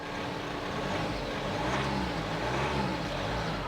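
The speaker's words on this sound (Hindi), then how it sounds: "आप नॉइस सुनेंगे, थोड़ा सा भी रेव करूँगा।" A Jeep Meridian diesel SUV engine idles close by with the door open and rises slightly in a gentle rev, a steady low drone throughout with no voices.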